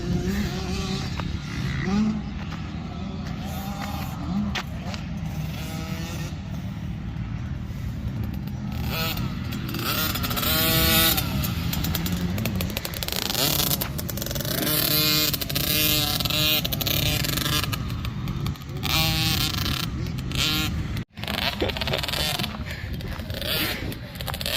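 A factory 50cc motocross bike riding on a Supercross track, its engine revving up and down in a steady buzzing drone with rising and falling pitch through the clip, fairly close and continuous.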